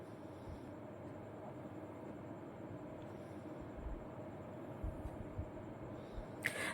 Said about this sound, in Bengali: তো আমাদের ট্রেন ঢুকে গেছে, আমরা এবার ট্রেনে উঠে পড়ব।